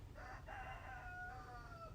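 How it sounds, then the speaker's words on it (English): A rooster crows once on a farm in a drawn-out, wavering call, moderately faint over a low background rumble. "Gotta love the roosters."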